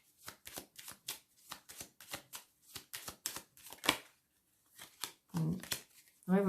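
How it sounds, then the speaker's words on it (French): Tarot cards slapped down one after another over other cards on a table, a quick irregular series of close crisp flicks and taps, with brief louder handling noises at the end. "Je vais recouvrir certaines cartes."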